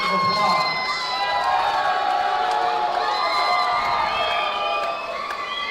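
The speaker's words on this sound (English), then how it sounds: "Everyone out there who felt like Mr. Prieto won the fight, round of applause." Loud crowd at a boxing event cheering and shouting for fighter Prieto, a continuous roar of raised voices and whoops with little clear clapping, fading slightly near the end.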